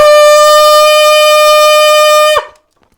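High B is played on an alto saxophone with the register key, giving one bright, piercing sustained note for about two and a half seconds that ends with a short breathy release; no one talks.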